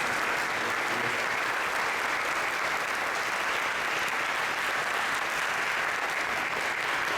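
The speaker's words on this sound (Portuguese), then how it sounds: "Queria pedir uma salva de palmas para o Alex Gomes" A cooking class audience claps for Alex Gomes, steady dense applause from many hands held at full level throughout, no voices above it.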